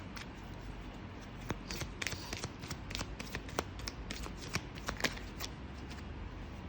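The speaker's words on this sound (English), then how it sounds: "There are a whole bunch of cards that came out, so I'm just gonna shuffle it again" A deck of tarot cards being shuffled in steady, crisp riffles and flicks, close by, with no talking.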